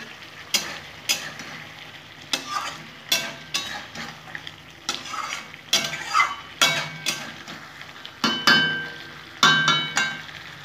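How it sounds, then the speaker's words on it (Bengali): Fried eggs being sautéed in a pan for an egg curry: repeated sharp clinks and scrapes of a spatula against the pan, about one every second, over a soft steady sizzle, with no talking. "এখন এই ডিমগুলো দিয়ে আমি একটু কষিয়ে নেব।"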